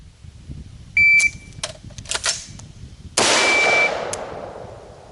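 A .22 rifle with iron sights is fired at a range: several sharp, close reports with a bright metallic clang and ring, then one louder crack that decays over about a second. No voices.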